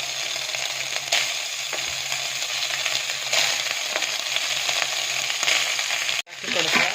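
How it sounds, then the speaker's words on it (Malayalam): Cooked rice fries in coconut oil with a steady, close hiss of sizzling, broken by occasional scrapes and clinks as it is stirred around the pan. "നമ്മൾ വേവിച്ച് വെച്ചിരിക്കുന്ന റൈസ് അതിലേക്ക് ഇട്ട് കൊടുത്ത്"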